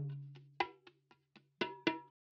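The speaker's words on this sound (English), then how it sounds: "Here's my original bongo layer" A loop of bongo hits for a lofi beat, uneven patter of soft and accented slaps over a low sustained hum that cuts off near the end, no voices.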